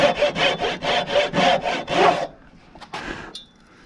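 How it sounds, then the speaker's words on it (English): A hand saw cuts timber in about eight rhythmic, rasping back-and-forth strokes, close and loud, then stops and is followed by a few light knocks. "In this case, I'm just going to use this saw."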